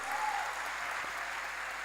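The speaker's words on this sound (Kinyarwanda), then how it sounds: "Komera Imana amashyi cyane." Church congregation clapping loudly in praise of God during a sermon by Bishop Albert Rugamba; sustained dense applause filling the room, with a brief vocal tone near the start.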